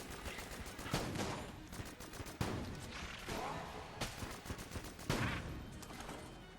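Nail gun in Enter the Gungeon firing in rapid sustained bursts, a steady stream of sharp shots with a few louder hits, dense and continuous throughout.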